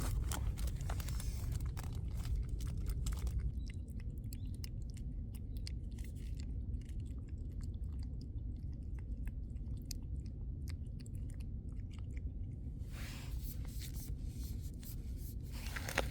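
Small stray kittens chewing and crunching snacks outdoors in cold winter weather, a close, continuous run of soft bites and crunches with no talking.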